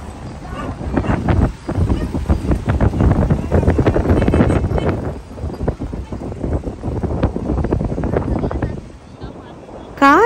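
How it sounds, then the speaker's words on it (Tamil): Strong wind buffets a microphone at the seashore near Dhanushkodi, Rameshwaram, a loud, rough, gusty rumble that surges and dips throughout, with people talking underneath. "பார்த்திங்கன்னா சரியான காற்று"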